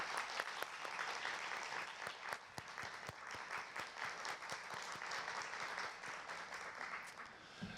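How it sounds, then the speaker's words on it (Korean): An audience at the opening ceremony of an academic cybersecurity conference gives a steady, dense round of applause. It is fairly distant and soft, and it carries on alone for several seconds. "박수 한번 부탁드립니다"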